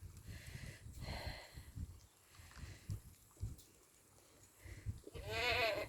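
Goats on a farm bleat in a few wavering calls, middling in distance, with a louder drawn-out bleat near the end over a soft outdoor background.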